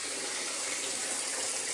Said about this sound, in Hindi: इनको 2-3 दफ़ा जो है ना मैं पानी से निखार लूँ।